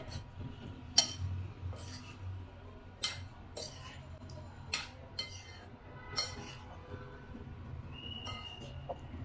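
Pieces of dory fish are tossed with spices in a bowl, with a spoon or utensil clinking against the dish at irregular intervals. The clinks are light and sporadic over a low, steady background hum.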